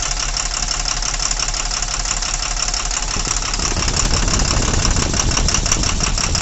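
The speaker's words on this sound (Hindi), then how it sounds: "मैं जैसे इंजेक्टर खोलता हूँ तो इंजन का साउंड चेंज हो जा रहा है" A diesel engine idles loudly with a rapid, steady knocking clatter; partway through, as an injector is opened, the rumble grows rougher and deeper, the rhythm shifting.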